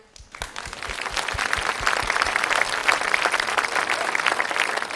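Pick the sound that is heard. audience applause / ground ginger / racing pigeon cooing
audience applause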